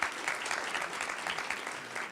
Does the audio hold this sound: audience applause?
yes